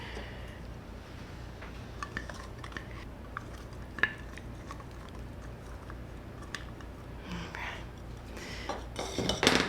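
A bowl of raw cacao, coconut oil and maple syrup being whisked for a vegan, gluten-free chocolate dessert, with faint scattered taps and scrapes of the whisk against the bowl that grow busier and louder toward the end, no talking.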